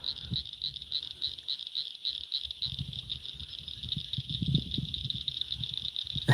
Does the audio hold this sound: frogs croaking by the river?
yes